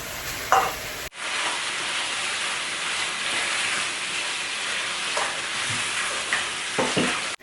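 Shrimp drop into a hot pan for pancit chopsuey, and a loud, steady frying sizzle starts abruptly and carries on with occasional stirring scrapes and clinks.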